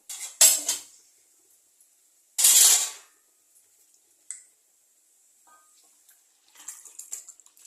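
Cooked mutton gravy poured into a metal pan in a home kitchen, heard as two short splashy bursts with metallic clinks, then a small knock and faint clattering near the end; no talking.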